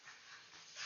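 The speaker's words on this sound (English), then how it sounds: "I'm sorry if you can hear my dogs; they're going crazy right now." Dogs pant in short breathy bursts close by for a brief moment, with no clear barks and no talking.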